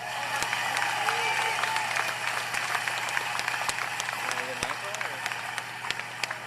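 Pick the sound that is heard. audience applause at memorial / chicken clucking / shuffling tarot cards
audience applause at memorial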